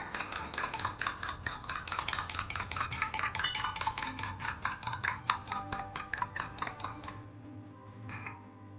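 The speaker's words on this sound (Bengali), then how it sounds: "দিয়ে দিচ্ছি সামান্য একটু লবণ। আবার মিক্স করে নেব।" Egg pudding batter with a pinch of salt beaten in a bowl: rapid, even clinking strokes of a utensil against the bowl for about seven seconds, then stopping, followed by a couple of faint taps.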